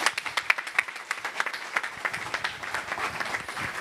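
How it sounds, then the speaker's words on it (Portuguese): A small audience applauds speakers after a talk on traffic education, steady, fairly close clapping with distinct individual claps in an uneven rhythm. "E essas palmas são para os senhores."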